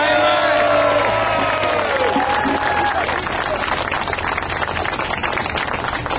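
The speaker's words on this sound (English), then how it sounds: "So give him a big round of applause." A rally audience bursts into loud applause and cheering, with dense clapping and crowd noise sustained throughout and some voices audible at the start.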